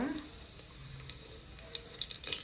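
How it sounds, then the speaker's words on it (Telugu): Mustard seeds and cumin sizzle in hot oil inside a pressure cooker, a soft steady frying hiss with a few light crackles and pops building toward the end. "కుక్కర్ పెట్టుకొని నూనె వేసేసుకుందాము. దీంట్లోకి ఆవాలు జీలకర్ర వేసుకుందాం."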